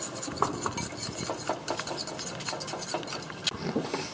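A spoon stirring a seasoned fondue bressane mixture in a bowl, a close run of soft scraping and tapping strokes with light clinks, steady and fairly quiet.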